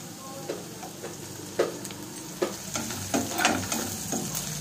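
Green chillies tossed into onions frying in hot oil, a steady close sizzle broken by repeated scraping stir strokes against the pan, with no talking.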